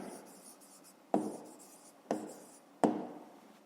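A hand writes digits on paper: close, scratchy pen strokes come in short bursts, each starting with a sharp tap and fading, repeated about four times in quick succession.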